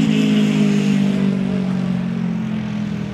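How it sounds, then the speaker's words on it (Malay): A motorcycle with a loud modified exhaust drones past, a steady, heavy engine hum that holds strong and then slowly fades slightly as it moves away. "Ni motor yang modify exhaust bagi sangat kuat kan"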